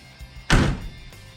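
A 1967 Camaro SS door closes with a single solid thunk and a short metallic rattle that rings out, heard up close with nothing else going on.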